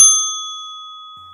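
A single bright notification bell ding rings out at once, clean and metallic, then fades slowly into silence, loud and alone.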